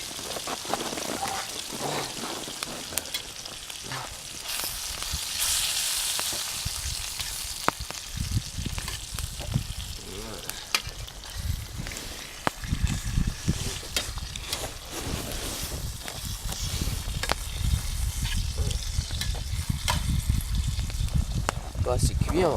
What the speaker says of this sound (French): On fait du bacon